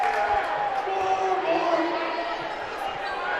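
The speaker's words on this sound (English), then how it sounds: "You can see the Heritage crowd getting pumped up." Heritage Christian home crowd at a high school basketball game against Guerin, a steady loud roar of cheering and chatter filling the gym, with a few scattered ball bounces underneath.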